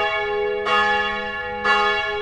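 Church bells ring out in Banja Luka, Bosnia and Herzegovina, two loud strikes about a second apart, each leaving a long humming resonance that hangs between them.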